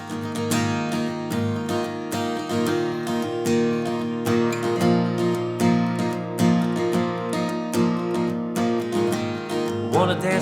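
Strummed acoustic guitar plays the intro of a worship song, steady rhythmic chords ringing clearly and alone at moderate volume.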